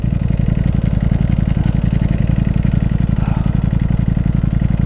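A Ducati V4 Panigale motorcycle engine idles close by with a loud, steady, fast-pulsing low rumble that stays even throughout.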